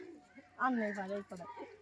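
Domestic pigeons at a home loft coo in a soft rolling call that swells near the middle and then fades, with a second shorter coo after it. A voice murmurs close by.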